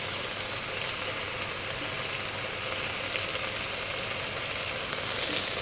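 Rice frying in a pan with salt, food colouring and sugar while cooking a festive dish at home, giving a steady, continuous broadband sizzle that stays even and close throughout with no talking.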